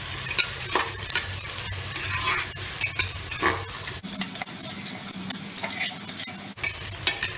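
Long-cut beans are stirred into masala pulao in a pressure cooker, with a spoon scraping and clinking against the metal over a frying sizzle, with distinct stir strokes and no talking.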